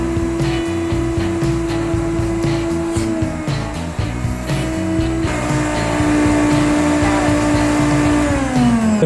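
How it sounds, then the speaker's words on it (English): A vacuum runs at the end of an electrical conduit to pull a string through the pipe, a loud, steady droning roar with a rattling, fluttering texture that shifts pitch slightly partway through. "at the other end running a vacuum and actually sucking this thing right to you, right through here"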